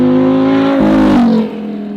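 An ACR race car laps a race track, its engine whining loudly as it sweeps past and drops in pitch, with no voices over it.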